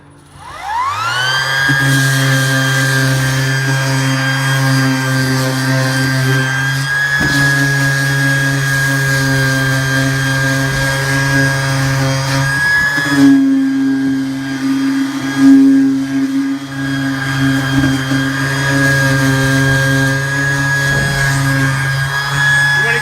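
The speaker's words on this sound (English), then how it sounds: "let's pull out the battery powered RIDGID sander here" A RIDGID 18V battery-powered palm sander spins up and runs steadily, close and loud: a constant high motor whine over a buzzing hum, with slight shifts in pitch as the pad is worked against the surface.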